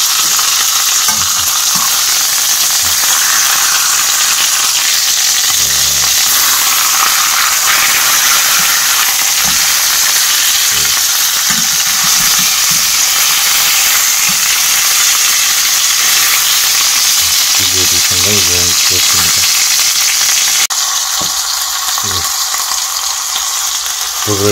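An American tomahawk steak sears in a hot pan, bone-side meat cooking with a loud, continuous sizzle and crackle of frying fat throughout, with a few faint knocks and clatters near the end.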